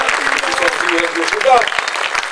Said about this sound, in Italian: Nel frattempo invitiamo, facciamo un applauso, il nostro regista Costantino Madruga a salire sul palco.